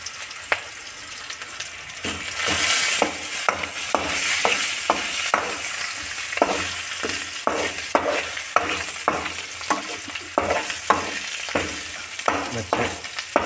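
Red lentil curry fried in a pan with turmeric and ginger, giving a constant sizzle with regular spoon scrapes against the pan, close and fairly loud.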